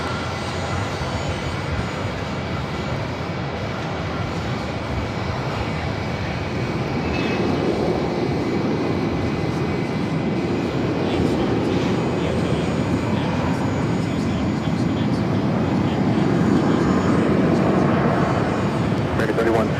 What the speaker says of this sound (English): This arrival is American Airlines 3171 coming in from Chicago on the